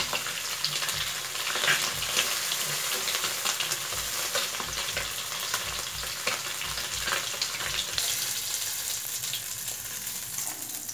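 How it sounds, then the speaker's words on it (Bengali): Chandani fish sizzle in hot oil in a home kitchen, a steady crackling fry with occasional stirring scrapes, close and moderately loud, with no talking throughout. "মাছগুলো ভাজা হয়ে গেছে"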